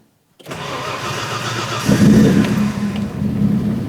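A Cosworth car engine cranks and catches after a brief silence, then settles into a loud, steady idle up close, alone without talk.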